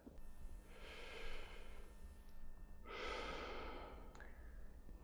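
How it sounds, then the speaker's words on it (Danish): Two slow, deep breaths taken before raising a pistol to shoot, each a long airy inhale and exhale, close and quiet, with a short pause between them. "så tager vi et par dybe indåndinger"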